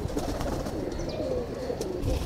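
Rampuri pigeons coo softly amid a dense, steady background of bird noise and rustling, close and continuous over a couple of seconds with no speech.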